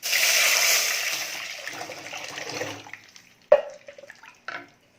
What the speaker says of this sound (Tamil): இப்போ ரசத்தை ஊற்றிக்கலாம்